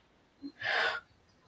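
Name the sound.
person breathing heavily into microphone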